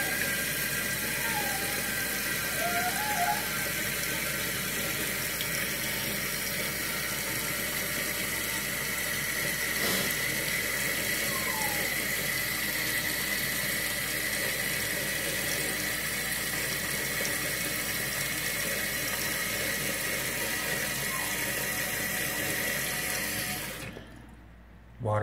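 Toilet tank refilling with water after a new fill valve and flapper were fitted, a steady rushing hiss of water running near and continuous for most of the clip, then cutting off sharply right at the end as the valve shuts.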